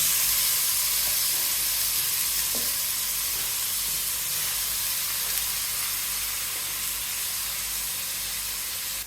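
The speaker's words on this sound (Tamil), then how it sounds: "இப்போ வாஷ் பண்ணி வச்சிருக்க ப்ரானை போட்டுடலாம்." Washed prawns drop into thick spicy prawn thokku masala in a hot pan, a steady loud sizzle and hiss holding for several seconds with faint stirring clicks, no voices.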